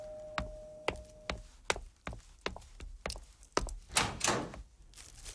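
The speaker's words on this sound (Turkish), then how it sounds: "Ha, kapı çalıyor." Knocking on a house door in a Turkish TV film drama, a series of sharp wooden thunks in irregular bursts, fairly close, followed by some rustling and faint movement.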